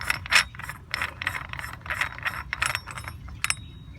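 Backflow preventer parts are worked loose from a sprinkler valve, giving a close run of small metallic clicks, scrapes and ratcheting rattles.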